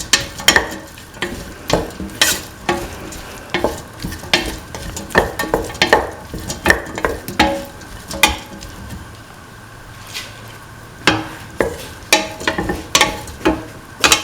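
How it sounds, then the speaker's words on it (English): Tomato pieces with salt sautéed in a pan, with a spatula stirring and scraping in a steady rhythm of close, repeated strokes over a soft sizzle, pausing briefly midway. "Keep on sauteing. Thoroughly mix."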